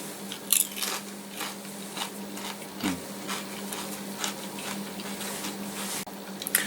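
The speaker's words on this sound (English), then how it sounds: "please forgive the crunching, but here we go" Crunching from someone eating green garden salsa, likely on chips, comes as repeated close, crisp bites and chewing in a quiet room.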